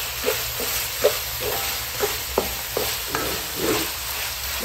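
Tortang giniling sizzles steadily in a pan under a constant frying hiss, with repeated soft scrapes and stirring taps at an uneven pace and no voices.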